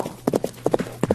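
Close, crisp horse hooves clip-clopping in a quick uneven rhythm of about seven sharp strikes, loud over a quiet background.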